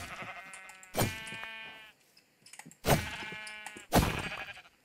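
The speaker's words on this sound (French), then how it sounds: "Ah, des moutons." Sheep in the Minecraft video game bleat loudly in three long, wavering calls close by, separated by short pauses, with no talk over them.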